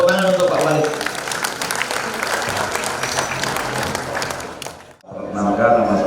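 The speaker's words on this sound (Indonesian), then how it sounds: "Tepuk tangan untuk Pak Walid." Loud applause from a crowd at a NasDem party gathering in Blitar, Indonesia, fills the room for several seconds, dips briefly, then swells again.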